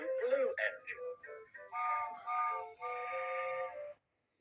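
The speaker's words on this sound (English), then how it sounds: "Edward's whistle sounds like this." A high-pitched steam engine whistle sound effect from a Thomas the Tank Engine video game, for Edward, the blue number 2 engine, sounds in several short and sustained toots of varying length, then cuts to silence.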